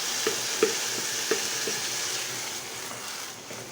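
Water poured into a hot, sizzling pot of soup with meat: a steady broadband hiss, with a few sharp stirring knocks early on. No voices.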